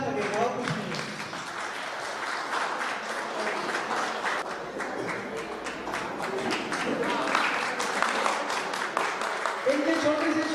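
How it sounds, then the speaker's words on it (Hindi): An audience at a university ceremony claps steadily throughout, a dense, sustained patter of many hands, with a voice heard faintly over the applause. "तालियां बजती रहेंगी तो अच्छा लगेगा"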